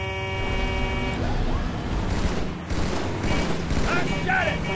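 Marines in Halo 2 trade continuous gunfire with jackal snipers, a dense rattle of shots and booms layered over steady game music and effects.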